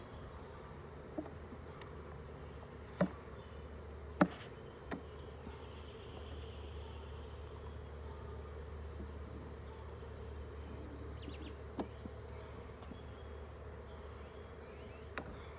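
Honey bees from a freshly caught swarm hum steadily around hive frames, a continuous low buzz throughout with a few sharp clicks and knocks over it and no talking.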